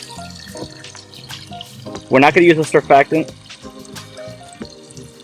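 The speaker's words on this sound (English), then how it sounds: "I'm just going to fill the rest of the bucket up with water." Tap water runs steadily into a bucket partly filled with bleach for a paver cleaning mix, a close continuous splashing fill while someone speaks briefly midway.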